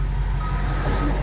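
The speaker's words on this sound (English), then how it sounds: "Big Jeep coming by." A big Jeep passes close by in traffic, heard from inside a moving car as a steady low engine rumble under the cabin's road noise.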